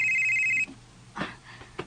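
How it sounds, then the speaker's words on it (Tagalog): A cellphone ringtone plays a steady, high electronic tone for about half a second, then stops, leaving faint room noise and a few small knocks. "may bagting man akong cellphone"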